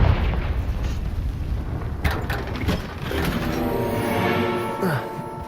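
Confringo spell blasts in Hogwarts Legacy, a loud burst at the start followed by a rumbling, crackling explosion around the two-second mark and a lingering, humming tail, with a voice speaking over it.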